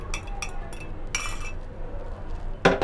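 A spoon stirs beaten egg into baby corn soup in a pot, with short bright clinks against the pot's side in quick bursts.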